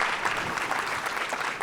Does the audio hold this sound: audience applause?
yes